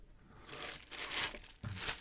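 A plastic bag crinkles briefly as it is pulled from a product box for a lighted stand, soft close rustles and crackles lasting about two seconds.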